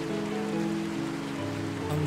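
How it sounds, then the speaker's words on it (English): Heavy rain in the video game Until Then, a steady dense wash of rainfall with sustained low tonal music underneath, continuous and even throughout. "The heavy rain tells me you are there"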